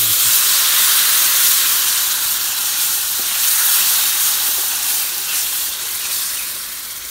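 Loud, steady hiss and sizzle as milk hits roasted semolina in a hot pan for irmik helvası, a close, continuous steaming rush that slowly eases, no voices.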